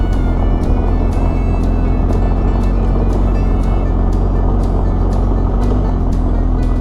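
A vehicle rolls along a loose gravel dirt road in Ohio. A steady, loud rumble of tires and engine continues throughout, with faint repeated ticks of stones striking underneath.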